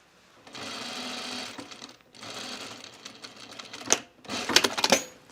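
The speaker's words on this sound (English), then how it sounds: "I'm going to keep sewing all the way around the perimeter here" A sewing machine stitches around the curved perimeter of a Mercer top, running in two steady bursts separated by a brief pause, then giving way to sharper clicks and rattles near the end.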